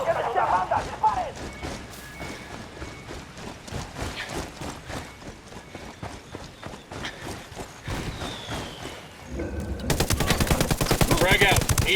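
Ghost Recon Wildlands firefight with near-continuous rifle and machine-gun fire, rapid overlapping shots through the whole stretch, and a louder, denser automatic burst near the end, with shouting voices mixed in.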